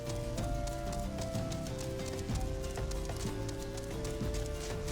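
Chocobo footsteps from the video game Final Fantasy XIV sound as a steady clip-clop of hooves over game music, with continuous rhythmic steps throughout.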